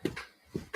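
A dog gives a few short, close, muffled barks or yelps, three quick bursts with brief pauses between them, heard indoors.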